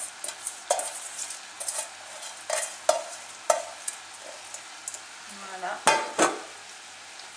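Rice noodles, tofu and vegetables being stirred in curry sauce, a series of close utensil scrapes and clacks against the pan over a soft sizzle, irregular strokes spread across several seconds, with a brief word spoken near the end.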